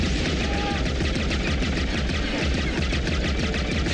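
Gunfire from a video game trailer comes as dense, rapid automatic bursts that stay loud and continuous.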